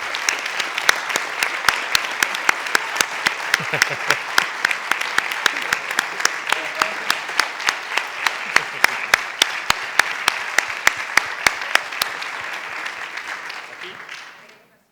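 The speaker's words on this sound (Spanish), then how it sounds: "vamos a ponernos de pie y un fuerte aplauso para Alicia Zambueli." A conference audience gives a standing ovation at the closing session of the V PANCCO 2024 congress, with loud sustained applause and sharp individual claps running steadily for about twelve seconds before fading out at the end.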